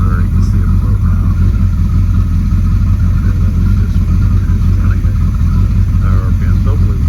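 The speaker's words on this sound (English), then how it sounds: "still blowing some carbon out that starboard motor" A starboard 454 Crusader marine boat engine with fouling plugs, still blowing carbon, runs steadily close by, a continuous low rumble that holds even throughout.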